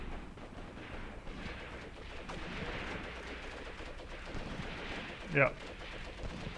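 Machine-gun fire rattles through a Graviteam Tactics battle set around Kharkov in 1941, heard as a steady broadband wash of combat noise with one sharper crack near the end, while someone speaks briefly over it.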